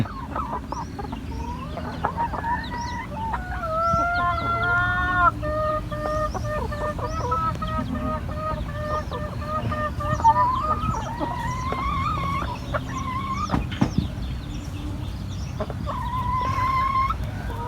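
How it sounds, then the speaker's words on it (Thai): Laying hens inside a chicken coop, many clucking and cackling calls overlapping in irregular bursts, close and lively throughout with occasional louder squawks. "วันนี้เราก็อยู่ในเล้า เล้าไก่ไข่นะฮะ เรามาดูไก่ไข่ออกไข่กัน"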